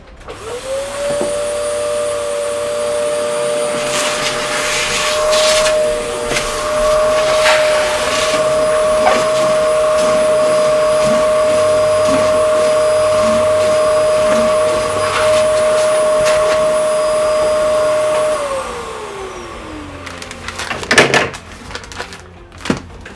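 A vacuum cleaner sucks up sanding dust from a 3D-printed sword, with a loud, steady motor whine that holds for about eighteen seconds, then winds down. Rattles and clicks of the nozzle sound throughout, and handling knocks follow after it stops.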